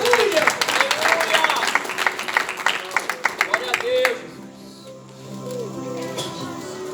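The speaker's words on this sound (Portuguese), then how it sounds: "Aplauda Jesus." A church congregation claps, a burst of sharp, fairly rapid handclaps that thins and fades after about four seconds, leaving a quieter room tone with low hum.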